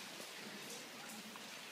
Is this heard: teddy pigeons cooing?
no